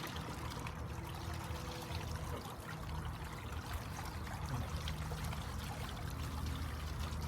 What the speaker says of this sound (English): I have a fountain now, but I have a fountain in my hot tub.